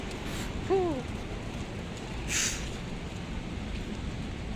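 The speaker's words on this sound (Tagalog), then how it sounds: "Grabe naman tong ulan." Heavy rain falls steadily outdoors near shops, a constant hiss throughout with a brief voice and a short sharp noise cutting in over it.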